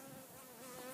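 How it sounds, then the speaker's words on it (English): A bee buzzes steadily and close up, hovering at a phone held near the recorder. The drone stays continuous and fairly loud with no breaks for the whole moment. "There is a bee on my phone."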